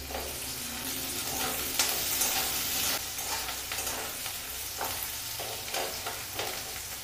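Garlic, onion, green chilli and capsicum frying in a pan give a steady close sizzle, broken by repeated scraping stirs with a spatula and short bursts of crackle.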